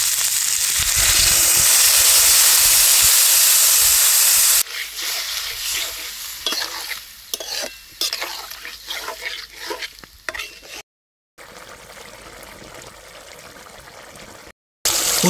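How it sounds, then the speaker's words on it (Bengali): Water pours into a pan of frying kundru (ivy gourd) masala, a loud hissing surge of sizzle that settles into a quieter bubbling, with occasional stirring clinks and scrapes. "এবারে কিছুটা জল দিয়ে দিচ্ছি।"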